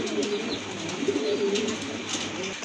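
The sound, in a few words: pigeons cooing at a pigeon sale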